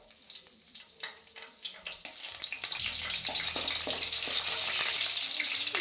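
Green chillies dropped into hot oil for tempering a tomato egg gravy give a soft crackle that swells after about two seconds into a steady, loud, continuous sizzle with a few clinks, no talking.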